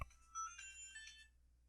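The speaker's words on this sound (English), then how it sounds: "Your phone went off." Video game music plays as a phone ringtone, a short bright melodic burst of tinny electronic tones lasting about a second before cutting off, fairly faint with no talk over it.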